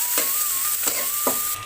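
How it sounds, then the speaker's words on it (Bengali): Pieces of rohu fish sizzle steadily in a pan, a constant hiss with a few soft scraping strokes of a spatula, close and fairly loud. "সুন্দর করে ভেজে নেব"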